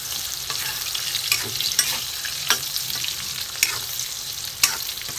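Eggplant fries in fish oil, a constant close sizzle broken by sharp scraping clicks of a spatula stirring about once every second.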